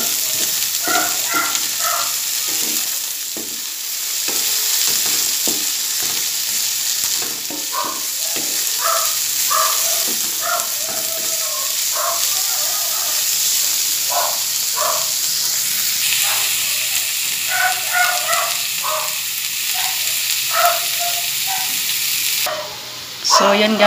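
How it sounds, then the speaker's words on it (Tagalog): Bitter gourd (ampalaya) sautéing with onion and garlic in a pan, a continuous hissing sizzle with scattered stirring clicks. A voice talks over it now and then. "Gisa-gisa lang muna natin guys yung ampalaya."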